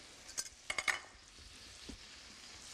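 Sage leaves fry in oil and butter in a pan for scallopini, a steady hiss with several sharp crackling bursts early on, then a softer continuous sizzle close by with no talking.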